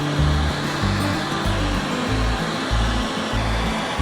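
A heat gun blows a steady, loud roaring hiss up close while warming a metal piece for bending in a fishing gaff build, with a low rhythmic pulsing throbbing beneath the airflow.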